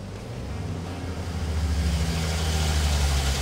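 A Ford 300 inline six, running again after sitting for 20 years, pulls under load on a dyno brake. It makes a loud, deep engine roar that builds steadily from start to finish.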